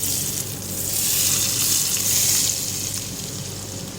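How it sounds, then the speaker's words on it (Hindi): Hot oil tempering sizzles and crackles loudly as it is poured onto chana dal in a pot, a steady hissing fry that swells and fades over a few seconds. "ये तड़का मैंने तैयार कर लिया, ये डालूंगी दाल पे।"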